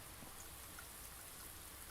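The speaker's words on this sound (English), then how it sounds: "It's like raining." Rain falls inside a greenhouse in the video game Blue Prince, a steady, soft, even hiss of drops with no voices or other sounds.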